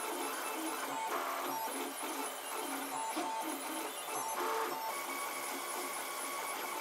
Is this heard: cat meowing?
no